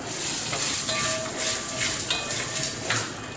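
Dried red chillies and curry leaves fry in hot oil for a Palakkad-style urad dal chutney, a loud, crackling sizzle with bursts of spitting and stirring.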